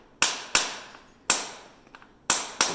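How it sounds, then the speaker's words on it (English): A hammer blocking horseshoe nails on a shod hoof, giving six crisp, close metallic taps in an uneven rhythm, a few of them in quick pairs, with quiet gaps between and no voices. "And I'll demonstrate blocking these nails."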